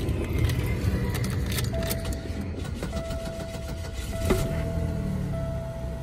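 The engine of a Buick LeSabre bought from Copart cranks and catches, heard faintly under a jangle of keys and small clicks, with no speech.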